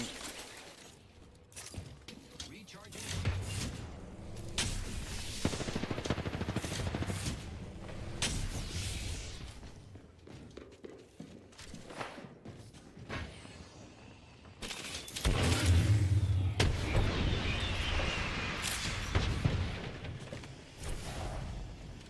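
Sustained gunfire in a video game, dense bursts of shots and shattering crashes rolling on continuously and fairly loud, with heavier stretches toward the end.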